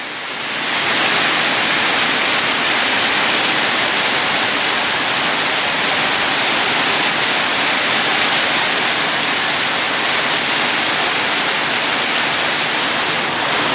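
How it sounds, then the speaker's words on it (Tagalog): Heavy, steady downpour on a goat farm roaring continuously, a dense hiss of rain pounding surfaces all around with no pauses. "Nabutan tayo ng ulan"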